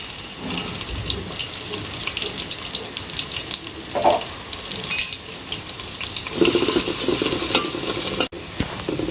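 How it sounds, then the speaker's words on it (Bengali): Chopped onions frying in soybean oil in a pan: a continuous hissing sizzle with occasional stirring scrapes and clinks, close and fairly loud, with no talking. "পেঁয়াজ ভাজা হয়ে গেছে"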